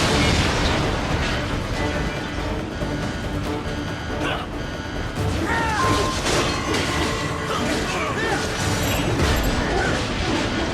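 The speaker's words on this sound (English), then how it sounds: "Firing RPG!" In Metal Gear Rising: Revengeance, an RPG rocket is fired and blows up amid chaotic combat, a continuous loud wash of booms, crashes and rumbling debris with no quiet gaps.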